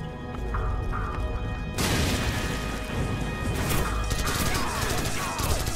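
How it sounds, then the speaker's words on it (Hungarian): RPG fire in Call of Duty 4: Modern Warfare, an abrupt loud crashing blast partway through, followed by sustained harsh explosive noise and debris clatter over faint background game sounds. "És RPG-vel lövöldöznek ide bent."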